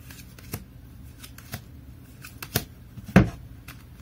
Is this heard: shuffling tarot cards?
yes